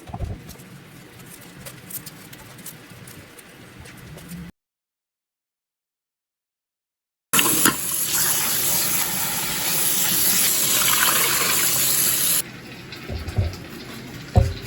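Tomatillos being washed under a running tap: a low trickle and handling noises at first, then a silent gap, then a strong steady gush of water filling and splashing that eases near the end.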